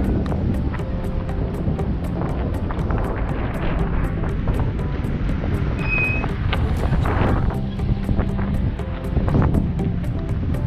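Gusty wind buffets the microphone in a continuous rough roar, with faint background noise and no speech, in Diriyah, Saudi Arabia.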